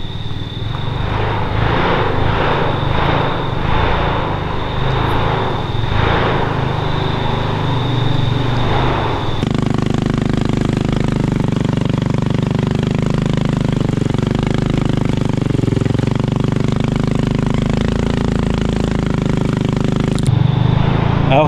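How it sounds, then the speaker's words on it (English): Yerfdog 3200 go-kart with a CVT upgrade driving through the woods, its small engine droning loudly and shifting to a steady higher-pitched roar midway, sustained and close throughout. "Listen to Randy having a blast out in the woods"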